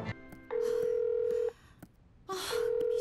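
A cartoon telephone number is dialed, with a quick series of button tones followed by long steady beeps that pause and then resume. There is no talking.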